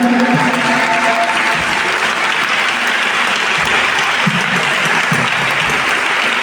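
Sustained, dense applause from a church congregation cheering the Holy Spirit during an evening French-language revival service, loud and continuous with a faint voice and low music underneath.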